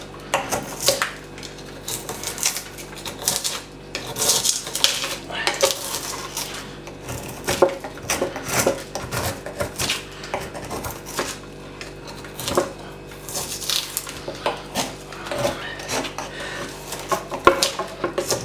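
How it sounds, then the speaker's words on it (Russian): A Yakut knife scrapes the skin off frozen fish in Yakutsk, making repeated sharp scraping strokes and clicks in an irregular rhythm, close and fairly loud. "Чистится якутским ножом"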